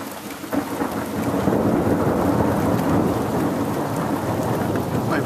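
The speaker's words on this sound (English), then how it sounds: "we're actually having a big thunderstorm right now" Thunder rolls through a heavy thunderstorm, a loud sustained rumble over steady rain pattering on surfaces, with no talking.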